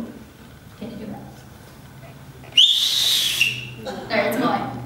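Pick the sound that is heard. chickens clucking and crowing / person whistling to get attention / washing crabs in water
person whistling to get attention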